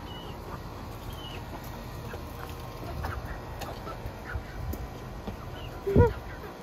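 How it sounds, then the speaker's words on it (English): Ducks and other birds call sporadically outdoors at a lakeside backyard on Lake Conroe, Texas, over a steady ambient background, with one louder quack near the end. "I love listening to the birds."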